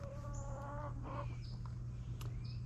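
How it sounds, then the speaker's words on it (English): Chickens clucking in a garden as they run behind and under the plants, with soft, brief clucks and chirps over a steady low hum of background noise; no one talks. "the chickens run behind the plants and under the plants"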